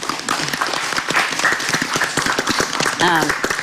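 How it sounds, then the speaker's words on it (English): Audience clapping in a room at a lung cancer legislation discussion, a burst of mixed claps with voices chattering over it and a brief higher vocal sound near the end. "Oh, we want to clap first."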